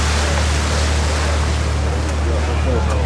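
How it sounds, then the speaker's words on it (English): Strong wind sweeps across open water near Helsinki, Finland, where boats are moving. A loud, constant rush of wind and waves fills the sound, with heavy wind buffeting on the microphone. "It's a pretty windy area here. A bunch of boats moving."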